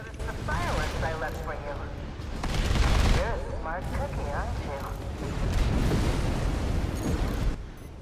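Weapon fire in the mech combat game Armored Core VI as falling canisters are shot down: dense, continuous bursts of shots and blasts that swell and fade, with someone talking over them.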